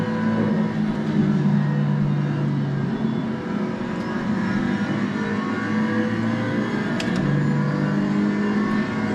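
A race car engine in a sim racing game accelerates steadily, its loud, sustained mid-pitched drone rising and holding through gear changes with no talk over it.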